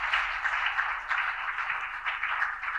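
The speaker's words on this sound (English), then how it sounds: "I would think that we should clap" An audience claps steadily for children at an education event, a dense, even wash of applause held at moderate loudness throughout with no speech over it.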